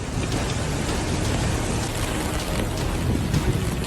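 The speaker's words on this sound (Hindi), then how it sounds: "असीर प्रांत के कुछ शहरों में मूसलाधार बारिश हुई है।" Heavy torrential rain pours down in Abha, the capital of Asir province in Saudi Arabia, a dense, constant roar of water hitting streets and surfaces that stays loud and unbroken throughout.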